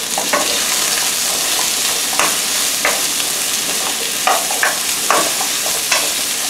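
Chicken pieces sizzling in a little oil in a pan as they brown for oven-roasted chicken, a steady close crackle broken by several sharper spits and pops.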